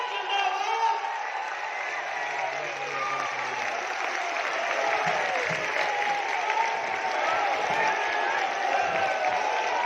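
An audience at a Hindi poetry gathering (kavi sammelan) in Bageshwar claps in a thin, scattered round of applause that runs steadily throughout, with a voice carrying over it.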